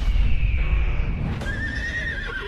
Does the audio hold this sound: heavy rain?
no